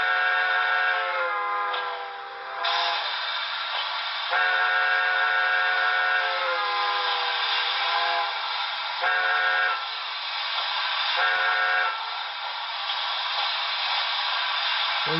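Sound system of a Broadway Limited K4S model steam locomotive plays a steam whistle, a bright, loud chord held for long stretches with several short breaks and re-soundings, clean and alone without speech.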